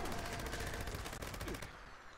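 .50 cal gunfire in Fallout 76 rattles out as a rapid, faint burst of automatic shots, repeating evenly for under two seconds before stopping.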